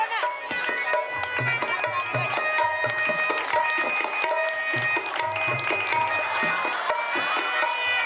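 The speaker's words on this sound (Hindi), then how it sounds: "तालियां।" An outdoor village audience at a Mahabharata play about the slaying of Kichaka claps and cheers in a lively, continuous roar, mixed with music and shouting voices.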